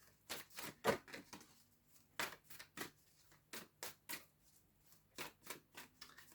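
Rapid flurries of papery riffling and clicking, repeated in short bursts with brief pauses, close and fairly quiet, like a deck of cards being shuffled.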